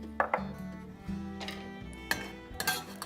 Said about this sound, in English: And you only stir this for about a minute until it gets warm